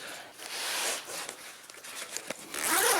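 The zipper on the main compartment of a First Tactical Crosshatch sling pack is drawn open in a few quick, close rasping pulls, with no voice over it.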